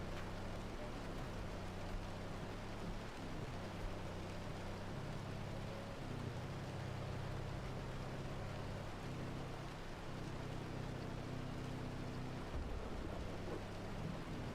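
Dense, heavy rain pours steadily in a storm-chasing video game with a tornado nearby, a continuous loud wash of noise with a low rumbling drone beneath it and no talking.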